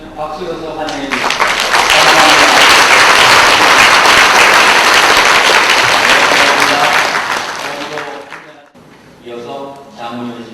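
A crowd breaks into loud, sustained welcoming applause for several seconds at a tea education event, swelling then fading, with a speaker's voice in Korean before and after it.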